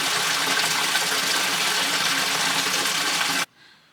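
A small waterfall inside a mine gushes in a loud, dense, steady roar close by, then cuts off abruptly near the end.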